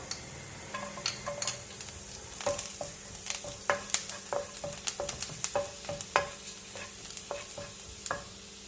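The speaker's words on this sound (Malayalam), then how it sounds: "ഇതിലേക്ക് നമുക്ക് ഗാർലിക് ആഡ് ചെയ്യാം" Chopped ginger and garlic fry in oil in a pan for an okra curry, with a steady close sizzle broken by frequent sharp spatula taps and scrapes as they are stirred; no one speaks.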